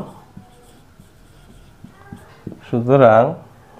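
A pen writes math on paper in faint, short scratching strokes and light taps, close and quiet, before a voice speaks briefly at the end.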